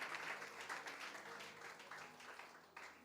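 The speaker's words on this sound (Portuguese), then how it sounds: "você pode glorificar o Senhor, aplaudir a Ele" Church congregation applauding during a communion service, a steady, moderately faint wash of many hands clapping with a few louder bursts, continuing evenly throughout.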